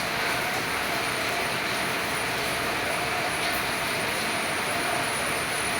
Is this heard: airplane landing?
yes